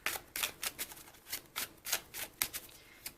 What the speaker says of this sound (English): let me shuffle the cards right now